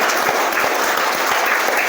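A group of schoolchildren clap their hands loudly and continuously during a yoga session at a school, a dense, steady patter of many overlapping claps with no pauses.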